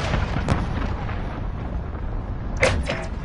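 A cruise missile blast in Call of Duty: Modern Warfare during a Search and Destroy match, a loud burst rising out of dense battle noise with a sharp crack near the start and a stronger rumbling impact toward the end.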